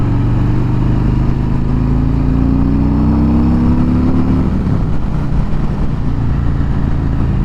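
A 2020 Harley-Davidson Road King Special motorcycle with a Milwaukee-Eight 114 engine on the move, its deep rumble steady and close, rising in pitch through a gear before settling into a constant cruise.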